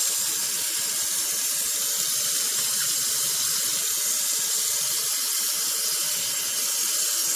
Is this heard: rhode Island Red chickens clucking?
no